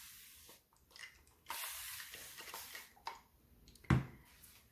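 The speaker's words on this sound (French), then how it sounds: "Je mets de la brume d'eau." Short hissing bursts of fine water mist come from a spray bottle in a quiet room at close range, with a few soft pumps and light handling noises between the sprays.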